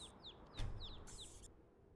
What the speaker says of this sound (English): Oh, and I hear birds chirping.